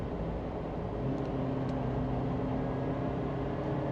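Suzuki Jimny engine pulling hard at highway speed from inside the cabin, a steady loud drone with road and wind roar that holds constant throughout.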